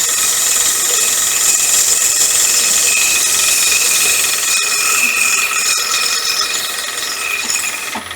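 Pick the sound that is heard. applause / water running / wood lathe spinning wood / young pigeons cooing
wood lathe spinning wood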